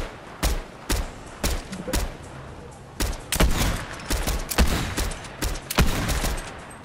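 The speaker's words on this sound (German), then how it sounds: "Schüsse." Gunfire in the Fortnite video game: about a dozen sharp shots ring out in an irregular rhythm, some single and some in quick bursts, with a faint voice now and then.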